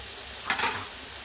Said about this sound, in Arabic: نخلو هاد الميلونج يتقلى مليح نزيدو لا طوماط